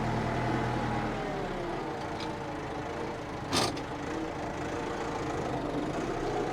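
A tractor engine idles with a steady low rumble and a faint rhythmic knock, close and constant, with one short sharp noise partway through.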